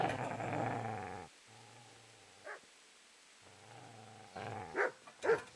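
A dog in the Kingdom Come: Deliverance video game growls low and steady, then gives a few sharp, close barks in short bursts between quieter stretches.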